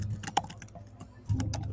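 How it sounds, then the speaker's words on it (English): Rapid, uneven clatter of keys on a computer keyboard, close and clear, with brief pauses and a few harder strikes. "I'm working on typing my show notes while I'm trying to multitask"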